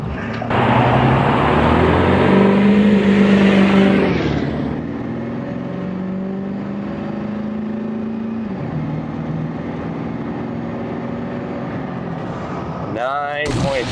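A Ford truck with a 7.3 L Powerstroke diesel accelerates hard from a standstill toward 60 mph, its engine roaring loudly up through the gears and then settling into a steady drone, heard from inside the cab.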